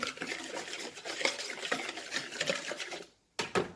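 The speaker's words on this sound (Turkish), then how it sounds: "Bir çırpıcı yardımıyla şöyle bir karıştırıyorum." Sugar and salt are whisked in a bowl with a hand whisk, a quick rhythmic clatter and scraping of metal against the bowl that runs continuously, stops briefly, then resumes for two short strokes.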